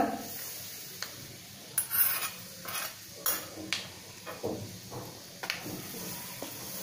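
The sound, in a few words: mixing hot oil into flour for masala puri dough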